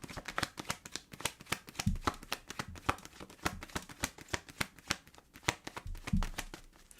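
An oracle card deck being shuffled: rapid, close riffling and slapping of cards in an uneven rhythm, with a couple of heavier thumps as the deck is squared, no voice over it.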